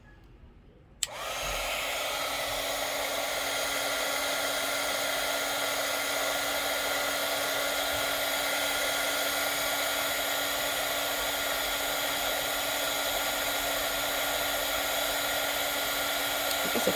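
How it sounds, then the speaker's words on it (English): Heat tool blows hot air onto embossing powder on die cuts, switching on abruptly after a quiet moment and then holding a loud, steady whirring hiss with a high whine throughout. "let's heat this up with the heat tool"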